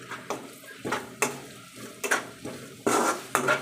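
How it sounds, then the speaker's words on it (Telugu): Washed dried prawns added to a frying tomato curry and stirred with a spoon, heard as repeated close scraping clinks against the pan at a steady pace over a light sizzle. "కడిగి పెట్టుకున్న రొయ్యలను ఇందులో వేసుకొని కలుపుకుంటాను"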